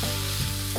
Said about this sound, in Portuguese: Vou deixar essa carne fritar e amolecer um pouquinho o pimentão e o tomate.